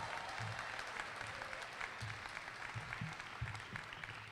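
Steady, even applause from the crowd at SUNY Oswego's annual Welcoming Torchlight Ceremony, heard at moderate distance and holding level throughout with a faint murmur beneath.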